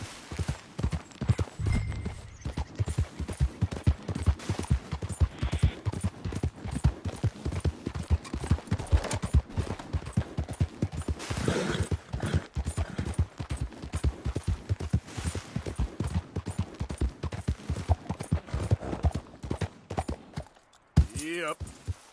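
A horse gallops in Red Dead Redemption II, with rapid rhythmic hoofbeats pounding throughout, close and fairly loud, and a brief whinny near the end.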